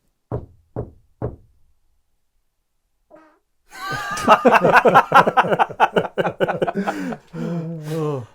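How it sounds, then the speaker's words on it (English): Three sharp knocks sound inside an abandoned house, evenly spaced and close, then a pause before people break into loud laughter and chatter. "Could you give us a knock like this?"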